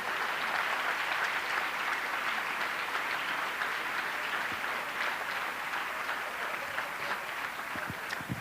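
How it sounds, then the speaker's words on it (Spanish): A church congregation claps together in sustained, dense applause that fills the room for several seconds and tapers slightly toward the end. "Dele un aplauso al Señor"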